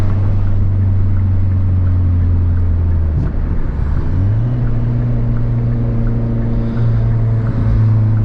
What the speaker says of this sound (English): it has like a little burble tune to it.